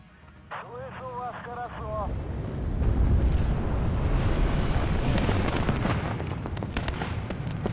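A rocket attack from an SU-25 jet in the WARNO strategy game, with a rumbling, crackling barrage of explosions that builds and sustains, preceded by brief warbling tones, while a voice talks over the battle.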